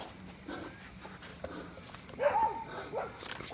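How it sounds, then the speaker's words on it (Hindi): A dog barks and whimpers outdoors at night near a hut in intermittent short bursts, moderately close but fairly quiet, with faint footsteps and rustling in between. "कुत्ता भौंक रहा है।"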